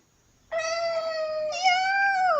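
A young child imitates a cat, a single long drawn-out meow with a wavering pitch, close and clear, starting after a brief pause.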